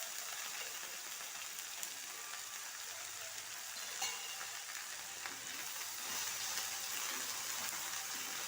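Onion pieces fry in oil with a continuous fine crackling sizzle like light rain, steady and moderately close, growing slightly denser near the end.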